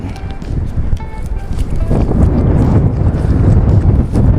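Wind blows steadily at a riverside fishing spot, a loud close buffeting rumble on the microphone that grows stronger partway through.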